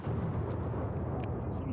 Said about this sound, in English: No, that was the cannon.